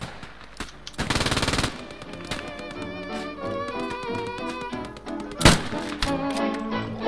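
Gunfire in a World War II video game with German paratroopers, a rapid burst of automatic shots followed by scattered single reports and a sharp loud crack near the end, over game music and ambience.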